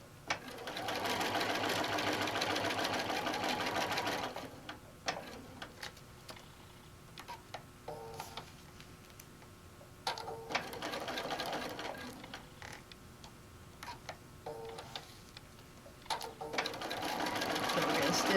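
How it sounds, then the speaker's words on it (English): A sewing machine stitching a fabric bag runs in steady whirring bursts, pausing and restarting several times, close and clear, with a voice talking softly in between. "So again, we're going to stitch."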